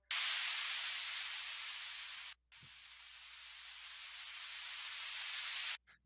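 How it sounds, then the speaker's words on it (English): A loud hiss of white noise from a synth layer in Ableton Live in two long sustained blasts with a short break between them, each slowly fading before cutting off. "element is just white noise."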